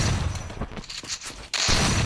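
Double barrel shotgun fire in a video game, loud close blasts with a sharp burst at the end of the short stretch and dense noisy booms before it.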